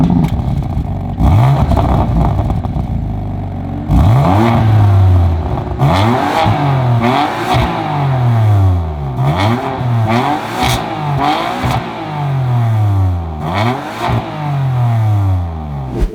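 A loud BMW M3 engine revs and accelerates repeatedly, rising in pitch through the gears with growling bursts, close and dominant with no talking.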